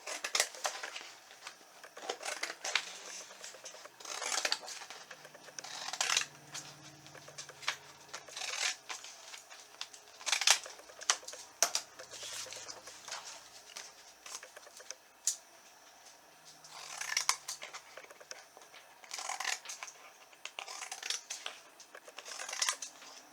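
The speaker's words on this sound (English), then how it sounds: "I'm going to use these scissors, kind of like snowdrifts. So I'll trim around here" Scissors snip and trim scrapbook paper into a loose snowdrift shape, giving a steady run of short, close, crisp cuts and rustles with brief pauses and no talking.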